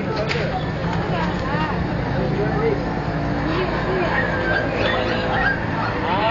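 A dog barks and yips with a few whimpers amid loud, overlapping voices of people arguing, with passing traffic in the background.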